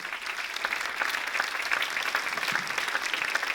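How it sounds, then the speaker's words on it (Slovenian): Audience applause at an indoor awards ceremony in a cinema hall, dense even clapping from a crowd, moderately distant and sustained for a few seconds, with no voices on top. "ker nismo še poskrbeli za aplavz za ta mlajše"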